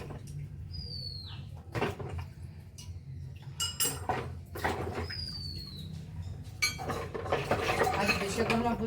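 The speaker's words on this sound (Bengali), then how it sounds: "এখন এই যে অস্ত্রপাতি কাটা আমি ধুয়ে নিচ্ছি।" Metal cutting tools and implements being washed at home for Vishwakarma puja, with scattered clanks, clinks and knocks of metal against metal and containers, while birds chirp faintly in the background.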